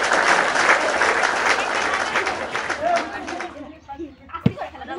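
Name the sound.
loud applause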